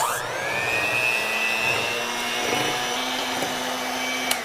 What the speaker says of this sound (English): we're just going to use a mixer to beat until it is fluffy and it doubles in size